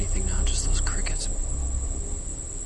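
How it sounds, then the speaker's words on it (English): Crickets chirp steadily outdoors at night at a ceremonial pool near a main gate, a continuous high trill running under faint low rumble and brief murmurs. "I'm not hearing anything now, just those crickets."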